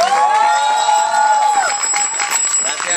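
Crowd cheering and whistling with bell-like tones at the close of a musical group bicycle ride, a loud, steady wash of voices and applause lasting throughout with no gaps.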